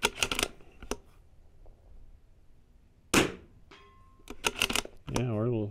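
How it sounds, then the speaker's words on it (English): Rifle shots fired at a steel target at distance, with several sharp cracks spaced apart and a later cluster of impacts, over faint background noise. "Let's shoot the steel, just make sure we know where we're at."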